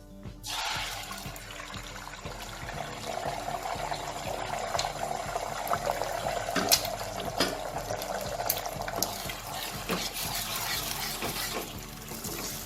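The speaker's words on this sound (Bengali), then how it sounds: "এবার এই ডিমগুলোকে তেলের মধ্যে দিয়ে দেবো" Four beaten eggs poured into hot oil sizzle and crackle steadily, a continuous close hiss of frying with scattered pops and no talk.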